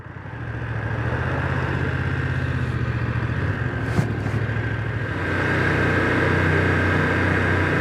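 A 2025 BMW F900R motorcycle rides slowly through town in first gear, its engine giving a close, steady mid-pitched drone that swells slightly toward the end, with wind rumble and no talking.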